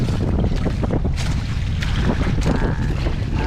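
Strong wind and heavy waves batter a small fishing boat at sea, a loud, constant roar of gusts and water slapping the hull with no voices.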